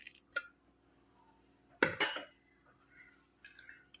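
Jaggery syrup is strained through a sieve into a vessel, giving a few sharp metallic clinks and a louder clatter of utensils against the pot, with quiet gaps between them.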